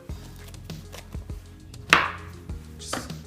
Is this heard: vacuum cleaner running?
no